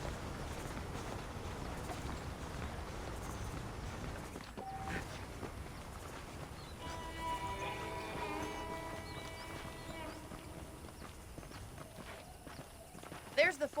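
Horse hooves in Red Dead Redemption clip-clop in a steady walking rhythm, fairly quiet, while a person talks and a faint musical tone plays in the background.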